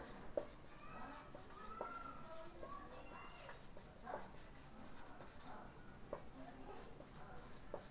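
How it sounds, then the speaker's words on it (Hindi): Chalk or marker writing on a board in a classroom, with faint scratchy strokes running under a teacher's talk. "चलो यहाँ पे लिख देती हूँ कंपोनेंट ऑफ मैप,"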